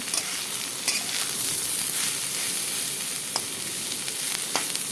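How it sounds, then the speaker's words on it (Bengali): Potatoes and onions fry together in a pan for katla fish paturi, giving a continuous close sizzling hiss with a few sharp spatula taps and scrapes. "এখন আলু আর পেঁয়াজ একসাথে লাল লাল করে ভেজে নেবো"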